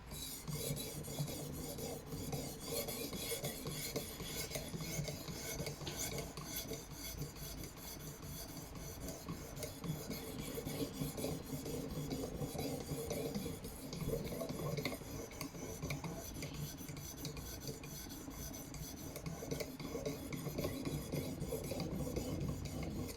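A knife blade rasps steadily back and forth across a vitrified sharpening stone in a fixed-angle sharpening system, a continuous gritty scraping stroke after stroke, close-up with no talking.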